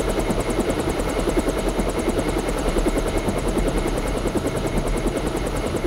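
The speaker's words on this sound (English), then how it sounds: "deactivate the weapon lock on Jock's helicopter" Helicopter in the video game Deus Ex, a steady close rotor thump and engine whine holding at a constant level throughout, with no voices.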